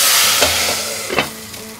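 Crushed garlic cloves and curry leaves dropped into hot oil for a Maharashtrian katachi amti tempering give a loud, steady broadband sizzle with a few sharp crackling bursts, and no voices.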